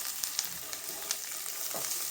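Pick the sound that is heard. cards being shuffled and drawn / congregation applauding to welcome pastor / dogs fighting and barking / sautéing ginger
sautéing ginger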